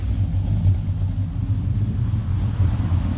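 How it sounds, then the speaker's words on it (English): Deep, steady rumble of a 1993 OBS truck with an LS engine swap and electric exhaust cutouts, running close by, a low throbbing drone that holds its level throughout with no voices. "that's how the exhaust sounds now, all the way to the back"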